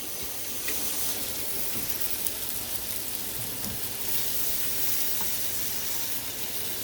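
Meat searing in a pan for birria-style tacos, a dense continuous hiss of sizzling fat that stays even throughout with a few faint crackles, close and unbroken by speech.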